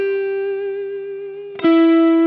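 A distorted electric guitar plays a slow blues pentatonic line, one long sustained note bending into a second note that rings out bright and loud, with no voice over it.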